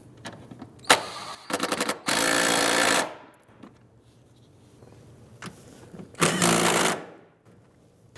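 Power tool tightening a bolt on a fuel pump module cover of a 2009-2015 Honda Pilot, with several short ratcheting bursts and two longer buzzing runs, close and fairly loud, separated by quiet pauses.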